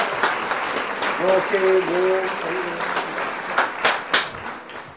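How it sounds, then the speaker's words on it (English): Canned studio-audience applause, a loud broadband clapping wash lasting throughout with a few sharper bursts near the end, while people talk over it. "Let's add that fake studio audience thing from last time."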